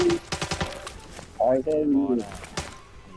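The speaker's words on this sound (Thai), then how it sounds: "ยิงโคตรแรงไอ้พวกเนี้ย" Rapid bursts of gunfire from bots in the video game Arena Breakout rattle out at the start, followed by a voice talking loudly over the fight.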